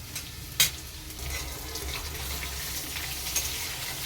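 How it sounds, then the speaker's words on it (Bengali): Potatoes frying in oil in a pan, a steady soft sizzle with a sharp clatter near the start and a faint one later, close and fairly quiet, with no talk. "তো অল্প লাল লাল করে আমি ভেজে নেব।"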